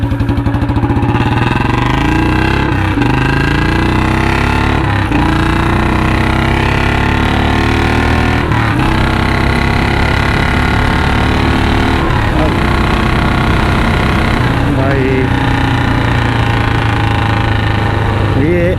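A Royal Enfield Classic 350 BS6 motorcycle fitted with a long Punjab exhaust and C-bend pipe runs loud and close, its thumping engine note rising and falling through repeated revs, with someone speaking over it.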